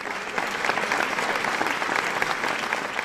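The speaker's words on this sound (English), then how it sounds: "Let us give the graduates a resounding applause." A graduation audience applauds the graduates at the SAEPA 2021 ceremony, a dense, even crowd clapping that holds steady throughout.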